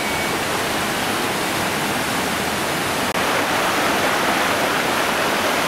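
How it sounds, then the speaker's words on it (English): River water rushes steadily at the Newmill ford between Brynmenyn and Blackmill, a loud, dense, unbroken roar close by with no voices. "Here we have the ford at what they call Newmill."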